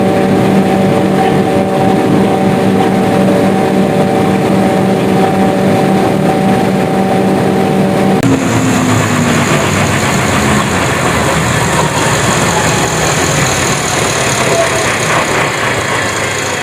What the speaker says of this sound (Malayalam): അപ്പോൾ നമുക്കിപ്പം ആ വലിയ ജനറേറ്റർ ഓഫ് ചെയ്യാനുള്ള സമയമായി.